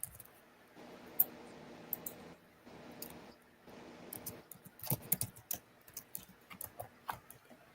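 Email and password being typed on a computer keyboard: quiet, irregular clusters of key taps with short pauses, growing busier toward the end, close and alone.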